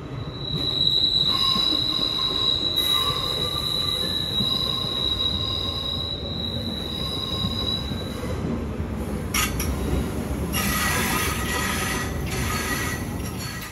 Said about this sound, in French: Et puis le train, il peut entrer en gare à 40 km/h.